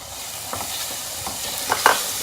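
Mutton liver and lungs go into hot oil with melted ginger and garlic and sizzle steadily. A few scraping stirs cut through, louder near the end.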